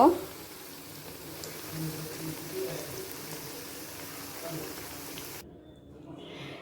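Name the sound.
vegetable pakoras frying in oil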